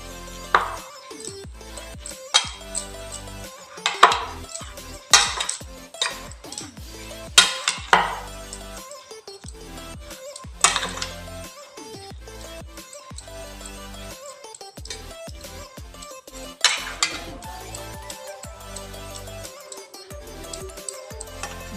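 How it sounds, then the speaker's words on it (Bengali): Soybean momo filling ingredients are mixed in a bowl, with repeated clinks and knocks of a utensil against the dish in irregular bursts, then softer stirring, close and fairly loud. "এরপরে সমস্ত উপকরণগুলোকে ভালো করে মিশিয়ে নেব।"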